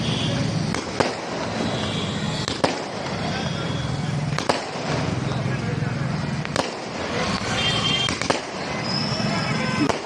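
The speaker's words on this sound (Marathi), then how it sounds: "अर्धापूर शहरामध्ये मोठ्या प्रमाणामध्ये फटाके उडून जल्लोष साजरा करण्यात येत आहे" Firecrackers bursting one after another at a street celebration in Ardhapur town, with sharp bangs at irregular intervals over a noisy crowd, voices talking throughout.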